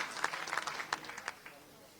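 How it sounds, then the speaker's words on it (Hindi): Scattered audience clapping at a book launch ceremony, a brief burst of individual claps that quickly thins out, fairly faint in a hall. "जोरदार तालियों के साथ"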